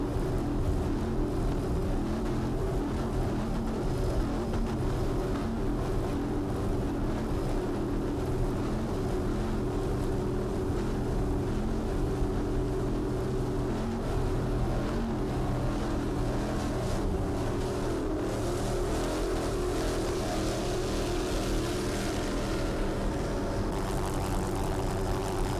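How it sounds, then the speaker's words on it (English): Offshore racing powerboats run in the 2003 Savannah race, their engines a steady, dense roar blended with wind and water rush, held at an even level throughout with no one talking. "Glenn Murray and Randy Schluss on board Typhoon Racing"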